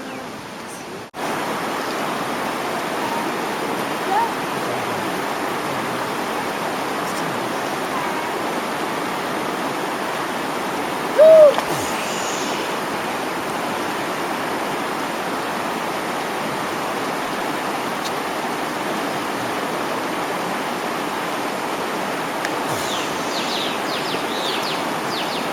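River water flowing with a steady, soft broadband rush, moderately distant and unbroken, with a brief faint knock near the middle.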